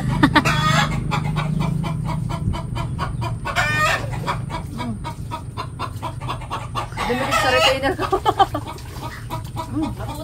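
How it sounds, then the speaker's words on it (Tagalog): A hen, just after laying an egg, clucks loudly and repeatedly in an agitated, rhythmic cackle, close by, with a few louder squawks and faint voices in the background. "Maingay po yung manok at kaiitlog."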